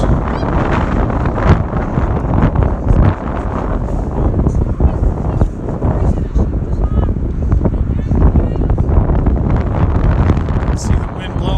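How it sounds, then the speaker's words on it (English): Gusty wind buffets the microphone beside a football pitch during a match, a loud, continuous broadband rush and rumble that never lets up for the whole stretch. "See the wind blowing the ball."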